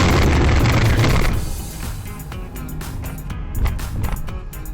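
An SUV sideswipes a car on a road in Kuwait. A loud, close scraping impact opens the sound, then it drops to steady road and engine noise from the moving vehicle.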